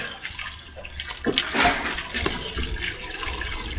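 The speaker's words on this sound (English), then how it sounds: "make sure that the water's coming down our little sluice" Water running steadily down a small gold prospecting sluice fed by a screen and pipe, a continuous close rushing and splashing flow with a brief surge near the middle.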